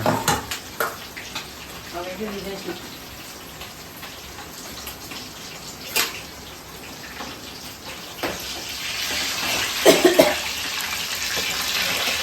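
Mixed vegetables for a mutton and mixed-veg biryani fry in hot oil with a steady, bright, rain-like hiss that swells and crackles louder near the end, joined by occasional clatters.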